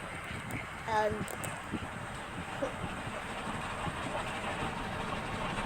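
Train running in the Roblox game Dead Rails, a faint low rumbling of rolling wheels and engine under a soft steady background, with a short clanking burst near the start, no talking.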